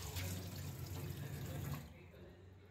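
A tap runs steadily into a sink while coriander is being wetted, a close, continuous splashing flow that cuts off near the end and leaves a quieter tail.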